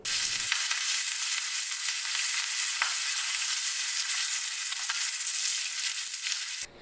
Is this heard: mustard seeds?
yes